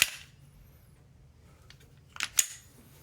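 A Walther PPS M2 pistol's trigger is pulled, giving a couple of quick, sharp mechanical clicks close by near the end, after a near-silent pause with faint background noise.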